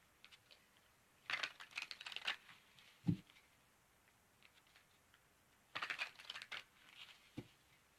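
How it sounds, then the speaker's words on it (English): Two quick riffling bursts of cards being shuffled, crisp and close, with a soft tap between them and a light click at the end. "Just a couple more shuffles here."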